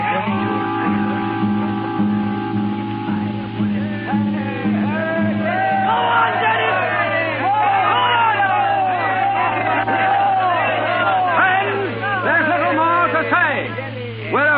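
Crowd at a political meeting in a town square in a radio drama, rowdy shouts, whoops and cheers from many voices swelling into a continuous roar over a low steady hum.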